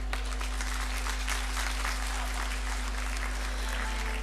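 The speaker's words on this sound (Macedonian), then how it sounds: "Да ги испратиме со аплауз нашите гости." Audience applause at a rice-harvest festival beauty pageant in Kočani, a steady dense clapping from a crowd sending off the guests, sustained and even throughout with a low electrical hum underneath.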